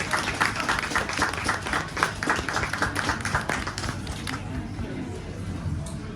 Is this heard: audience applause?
yes